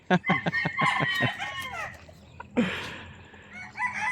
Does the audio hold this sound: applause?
no